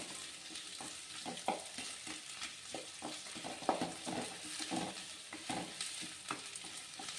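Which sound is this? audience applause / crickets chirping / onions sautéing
onions sautéing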